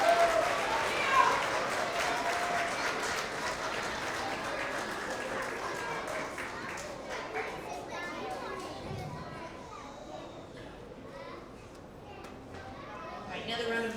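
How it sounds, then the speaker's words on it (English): Applause at a K–2 elementary school award assembly, a mix of clapping and excited children's chatter echoing in a hall, loud at first and slowly fading, with voices and movement underneath. "another round of applause for our first grade problem solvers"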